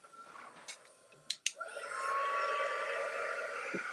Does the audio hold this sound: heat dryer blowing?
yes